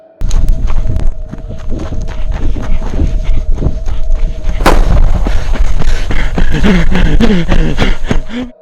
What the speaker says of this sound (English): A gun goes off in the distance.